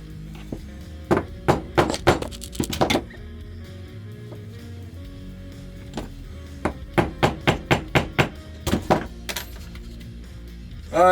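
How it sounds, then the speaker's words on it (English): A hammer strikes a metal punch to make holes in the steel tang of a Bowie knife, landing in quick bursts of sharp ringing blows with short pauses between the groups. "I realized I better punch these holes first."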